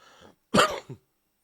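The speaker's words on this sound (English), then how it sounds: "Still got a little bit of cough left over." A single harsh cough, close and fairly loud, preceded by a faint murmur and followed by a short second burst, then silence.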